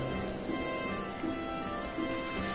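Steady rain in the Final Fantasy XIV marketplace at night: a constant, even hiss of falling water with faint, soft thuds underneath, holding at the same level throughout.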